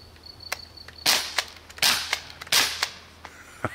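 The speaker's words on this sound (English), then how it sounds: "The double shot BB gun." Double shot BB gun fired repeatedly, sharp close cracks, several paired snaps in quick succession separated by short pauses, with small mechanical clicks between them.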